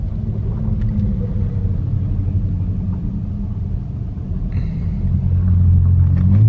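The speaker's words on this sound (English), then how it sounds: "I got a car coming." A car approaches along a street of old houses in Cumberland, Maryland, its low engine and tire rumble growing steadily louder toward the end with no talking.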